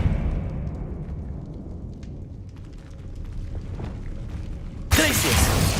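An Expelliarmus spell cast in Hogwarts Legacy lands as a sudden loud magical burst that cuts in sharply near the end over a low, rumbling game soundscape.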